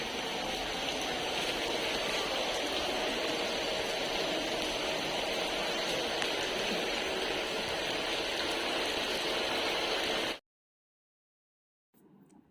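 Heavy rain pouring steadily on a dark afternoon, a dense continuous hiss and roar that stays even and loud for about ten seconds before cutting to silence, with a faint sound returning at the end.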